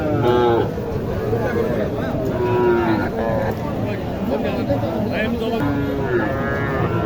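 Young bull calves moo repeatedly at a busy cattle market in Naogaon, with several overlapping calls near and far over a steady crowd murmur while people talk nearby.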